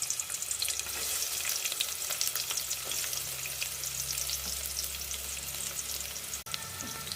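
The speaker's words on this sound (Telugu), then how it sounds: "ఆయిల్ వేడికిన తర్వాత కొన్ని ఉల్లిపాయలు అయితే వేసుకుంటున్నాను" Onions frying in hot oil for a mushroom pulao, a continuous close sizzle with faint crackles throughout and a single sharp clank near the end, no voices.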